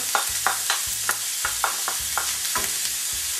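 Diced onions for sloppy joes hit a hot pan and crackle, with a series of rhythmic spatula scrapes and taps over a steady close sizzle; no one speaks.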